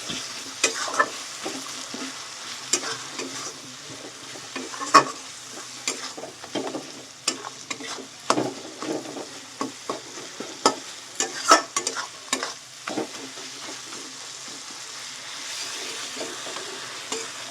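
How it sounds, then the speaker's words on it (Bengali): A spice paste with coriander and Kashmiri chili powder sautéed for crab curry, stirred continuously in a sizzling pan, with a steady fry hiss under repeated scraping and clicking strokes of the spoon, close by. "কাশ্মীরি লঙ্কার গুঁড়ো দিয়ে ভালো করে মশলাটা কষিয়ে নেব"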